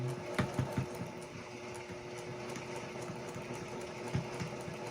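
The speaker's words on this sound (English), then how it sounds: "I'm double stitching the seams." A sewing machine double-stitches the seams of a pineapple quilt block for a child's blanket, its quiet needle strokes running in a steady rhythmic patter with no talking.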